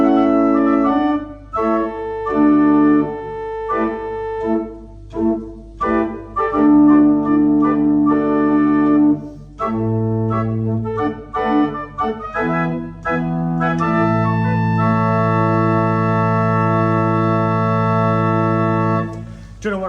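A church pipe organ sounds an 8-foot open diapason stop: loud, full sustained chords and held notes played close up, changing several times and ending in a long, broad chord.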